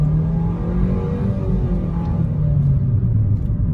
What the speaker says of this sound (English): we're gonna do a little bit of an acceleration pull